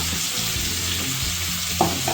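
Bottle gourd and shrimp fry in a pan with a loud, steady, close sizzle and a faint clink near the end, no voices.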